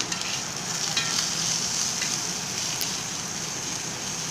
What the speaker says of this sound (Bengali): একটু ভাজা ভাজা করব এখন দিয়ে